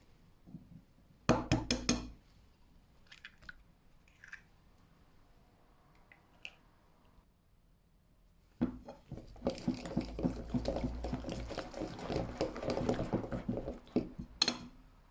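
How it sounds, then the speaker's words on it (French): A few sharp clicks of an egg being cracked against a bowl, then a long stretch of brisk, scraping whisking as yogurt cake batter is mixed, close up and fairly quiet. "je vais casser un œuf pour faciliter le mélange de la pâte"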